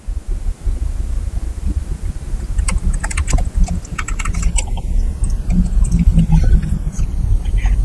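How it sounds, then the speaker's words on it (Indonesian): Typing on a computer keyboard while writing a paper in Google Docs: a steady, close run of light key clicks with a few sharper taps, heard alone without talk. "Kalau kita ketikkan seperti ini"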